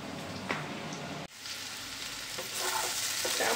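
Teasel gourd and potato sizzle loudly in a frying pan, with a steady hiss broken by a brief stirring clatter and then a louder burst of frying near the end.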